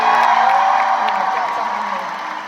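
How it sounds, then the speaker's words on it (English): Large arena concert crowd in Dublin applauding and cheering for a live band, a dense continuous roar of clapping and shouts that fades slightly over a couple of seconds. "please give a huge round of applause for my incredible band"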